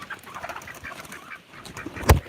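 Ducks and geese on a rural South Dakota farm at sunrise call in scattered honks and quacks, fairly near, ending in a sharp, loud honk close by.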